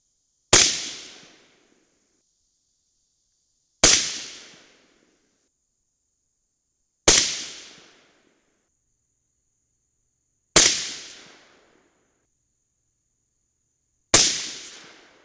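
Five sharp, loud shots from a .223 rifle firing handloads with IMR 3031 powder, spaced about three seconds apart, each a hard crack with a short decaying tail and silence between.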